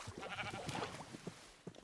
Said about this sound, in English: so now we have 5 sheep here